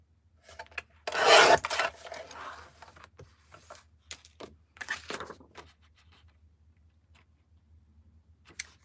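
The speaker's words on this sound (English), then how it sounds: "So now I'm cutting my mat just 1/4 inch wider." A blade scrapes and rasps through mat board while a hard cover journal is made, giving a loud drawn-out scraping stroke followed by shorter quiet rubs and clicks in a quiet room.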